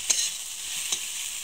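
Potato pieces frying in a pan and being stirred, with a constant close sizzle and two quick scraping strokes of a spoon.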